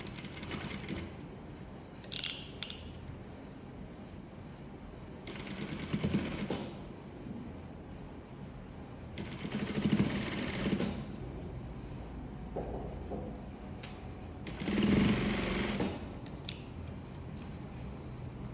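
A sewing machine stitches an invisible zipper onto fabric, running in four short bursts separated by quiet pauses, fairly faint and with no talking.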